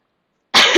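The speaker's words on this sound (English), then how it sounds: "my throat is a bit dry, so if you hear me cough, I apologize in advance" One short, sharp cough bursts out close to the microphone after a moment of silence, from a presenter with a dry throat.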